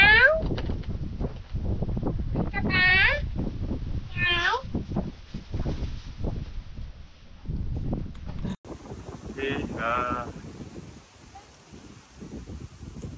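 A cat meows several times in short rising cries near a kitchen where fish is being eaten, heard between bouts of clattering and people talking, with wind buffeting the microphone.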